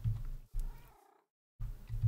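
A cat in a video game purrs in low, rumbling bursts with a brief tonal meow between them, fairly faint and heard alone.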